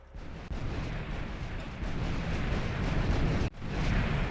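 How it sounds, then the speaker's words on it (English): A car bomb explodes in Grand Theft Auto, giving a loud, sustained rumbling blast that swells after a brief pause and cuts off sharply before a second burst of roaring explosion noise. "Okay, car bomb activated."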